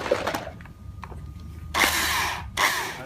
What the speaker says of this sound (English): make sure that you work the drill around the bottom and the sides